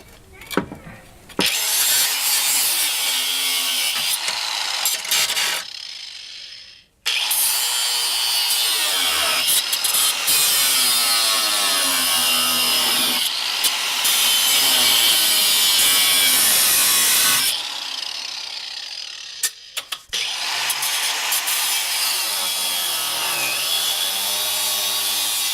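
Angle grinder cutting off the leftover bolt on a Jeep trailer hitch, a loud, sustained harsh metal grind that runs almost nonstop, broken by a few short pauses, with faint talk under it.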